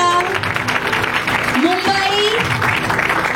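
An audience at a women's church meeting claps in a steady burst of applause, which runs beneath a loud voice speaking over it.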